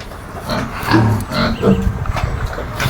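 Piglets grunt and squeal close by in short, rough bursts, loud and fairly continuous with a few louder snorts.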